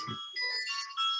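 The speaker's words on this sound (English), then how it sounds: "a phone of somebody who's really trying to contact me during this class" A mobile phone ringtone sounds during an online class as a short electronic melody of bright, sustained tones, loud and close, following a brief low voice at the start.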